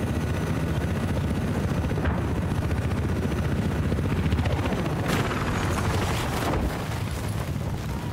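A video game helicopter's rotor drone and engine roar fill the scene steadily, with a few sharp booms and bursts of gunfire mixed in.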